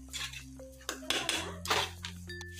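A utensil stirs tomato noodles with pizza pasta sauce in a metal pan, producing close clanks and scraping strokes in quick irregular bursts alongside a faint sizzle.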